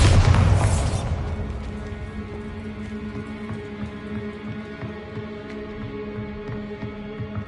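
In the Hogwarts Legacy video game, a Bombarda spell detonates with a heavy, booming blast that decays into a lingering rumble and scattered debris crackles.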